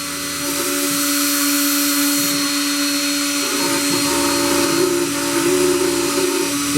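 An Inventables X-Carve CNC router whines steadily as it cuts into painted MDF, a loud sustained spindle tone with shifting grinding texture as the bit moves through the board.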